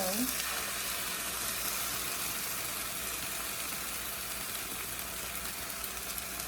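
Barilla tomato and basil sauce hitting a hot pan for vegan gnocchi, a broad steady sizzle and bubbling hiss that holds at a moderate level for several seconds with no talking.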